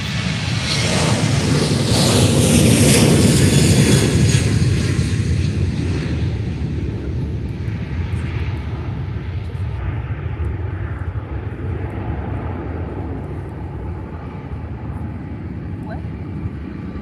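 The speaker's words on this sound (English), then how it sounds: "here's the Ryanair" A Ryanair airliner at Faro Airport roars loudest early on, then its engine noise steadily thins and recedes into a lingering distant rumble, with someone speaking briefly.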